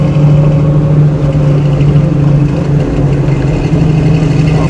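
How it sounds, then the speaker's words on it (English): A restored 1966 Ford Mustang's engine and exhaust drone loud and close from inside the moving car while downshifting, a steady low rumble with no talk over it. "Obviously downshifting, you can hear the motor there, you can hear the exhaust."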